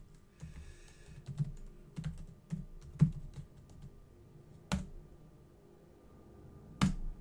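Keystrokes on a computer keyboard arrive in a sparse, irregular run of quiet taps, a few sharper clicks standing out over a low background hum, with no talking.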